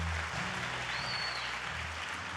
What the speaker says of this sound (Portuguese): Aplauda Jesus então